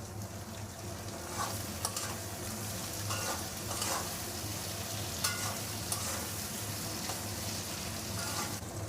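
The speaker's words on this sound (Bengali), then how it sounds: "পেঁয়াজটা ভেজে নেব।" Onions frying in a pan for a Bengali-style mutton paya curry, with whole cloves, cardamom and bay leaves: a steady close sizzle with occasional stirring scrapes and soft clinks throughout.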